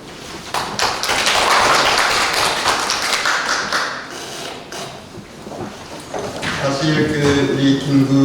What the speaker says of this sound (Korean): 다시 한번 박수를 드리죠